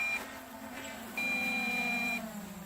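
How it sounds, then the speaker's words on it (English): Faint electronic low-voltage warning beeps from an RC transmitter, two tones, one short and one longer, sounding over a steady motor whine of an MJX Bugs 3 drone. "we've got the LEDs flashing, the transmitters beeping"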